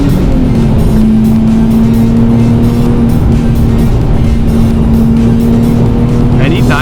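Nissan 370Z cruising on mountain roads at the speed limit, its engine a steady loud drone from inside the car with road and bump noise throughout, and voices talking over it.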